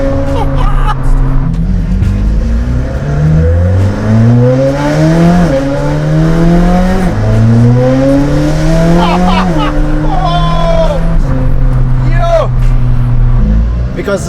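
A straight-piped McLaren Senna with a Race GTR Inconel exhaust revs hard and loud and close, its engine pitch climbing and dropping repeatedly in rising sweeps through the whole stretch.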